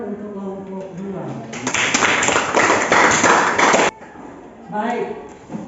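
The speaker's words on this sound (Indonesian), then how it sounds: "berikan tepuk tangan untuk kelompok 2" Classroom applause for a student group after a presentation, a burst of dense clapping of about two seconds between stretches of a teacher's speech.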